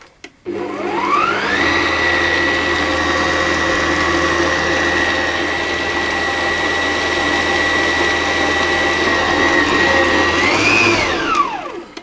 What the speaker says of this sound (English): I'm going to mix them on a slow speed to start with for a couple of minutes